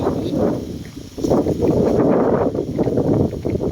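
Wind in a forest buffets the microphone with a continuous low rumbling roar that swells and gusts unevenly throughout, loud and close, with no speech heard.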